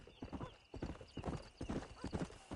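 Horses clip-clopping along in the Western video game Red Dead Redemption, a steady rhythmic hoof pattern at close range with a brief whinny, under quiet talk.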